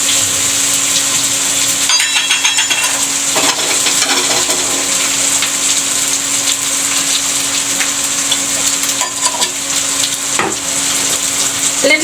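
Egg curry ingredients sizzle and fry steadily in a pan, with a spoon stirring and scraping against the metal throughout, close and loud with no talking.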